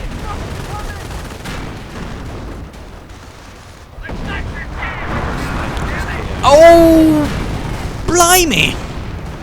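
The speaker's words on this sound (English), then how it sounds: "Could there be another howitzer barrage?" A howitzer artillery barrage in a war video game sends rising shell whistles over a constant rumble of gunfire, with a sharp burst near the end. An excited voice exclaims over it.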